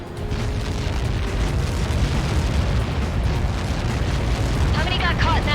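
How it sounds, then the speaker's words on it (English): An explosion impact in the combat flight game Ace Combat 7 fills the scene with a loud, sustained, deep rumble that rolls on without a break, and a short burst of voice comes near the end. "How many got caught in that explosion?"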